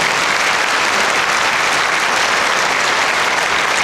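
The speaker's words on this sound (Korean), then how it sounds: "박수하겠습니다." Church congregation applauding guests at a memorial worship service, dense, even, loud clapping from a large crowd throughout.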